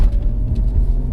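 A car engine on the A27, recently repaired after its bonnet flew open, accelerates hard as a loud, close, steady low rumble with a faint rising tone, without speech.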